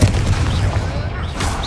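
A Confringo blast spell goes off in Hogwarts Legacy: a short, loud booming burst with rumbling low end, a voice briefly audible under it.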